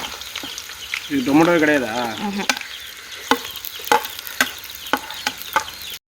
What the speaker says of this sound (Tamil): நம்ம அது வதக்கி எடுத்து அதே ஆயில் நெய்யில் தான் இந்த வெங்காயத்தையும் போட்டு நம்ம வதக்குறோம்.